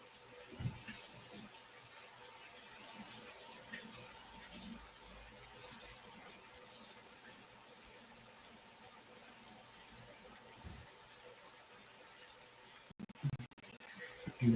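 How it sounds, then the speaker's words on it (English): Fresh asparagus rinsed under a running kitchen tap, a steady, faint stream of water hissing into the sink for a long stretch, with a few clatters near the end. "rinse off my asparagus"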